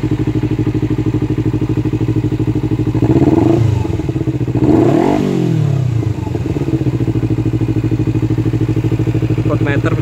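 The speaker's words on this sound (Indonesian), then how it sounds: "Cek sound untuk suara Z250FE." A Kawasaki Ninja Z250 FI motorcycle engine idles loudly and steadily, revving up twice in brief bursts before settling back to a rumbling idle.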